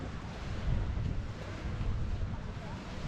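Waves wash onto the beach at Palmanova, a broad continuous surf roar mixed with wind buffeting the microphone, steady and fairly loud with no clear talk.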